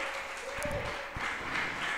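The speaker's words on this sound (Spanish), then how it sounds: "Un aplauso para nuestra amiga," A studio audience claps for guests on a Spanish-language talk show, a short burst of applause rising and falling while a presenter's voice carries over it.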